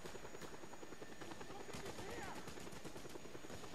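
A helicopter in the video game Just Cause 2 chops with rapid, steady rotor beats at close range, while faint gunfire and a voice sit underneath.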